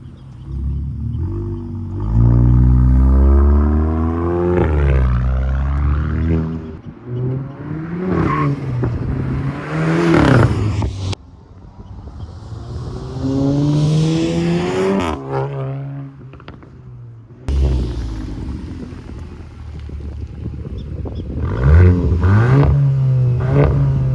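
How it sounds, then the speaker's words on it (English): A 2022 VW GTI four-cylinder with a full catback exhaust, driven hard: loud rising revs through several gear changes, brief lifts between pulls and a steady throaty drone, heard from inside the car with no talking. "just enjoy the exhaust sound of a 4-cylinder"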